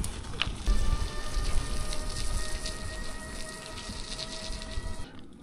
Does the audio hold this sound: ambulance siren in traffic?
no